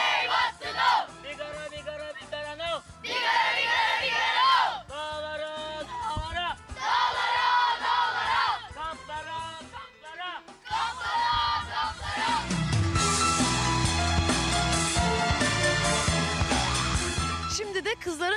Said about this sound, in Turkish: Siz izci alkışını izlerken ben de kızların kampına doğru gidiyorum